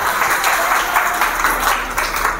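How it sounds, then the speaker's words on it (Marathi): An audience at a women's empowerment business program in Pune applauds, a short, steady wash of many hands clapping together at moderate loudness. "चला पहिले यांच्यासाठी टाळ्या झाल्या पाहिजे"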